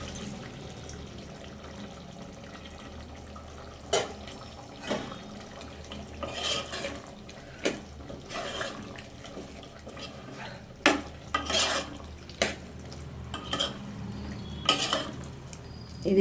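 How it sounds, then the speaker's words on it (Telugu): Mutton goes into a pot of dalcha and is stirred, giving scattered metal clinks and scrapes of a spoon against the pot over a low simmering background, with no talking. "ఇప్పుడు మటన్ అయితే వేసేసుకుంటానండి. మటన్ వేసేసుకుంటున్నాను."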